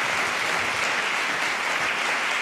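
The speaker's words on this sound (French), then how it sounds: "on peut l'applaudir" Sustained applause from a live radio show audience, dense even clapping filling the room with no talk over it.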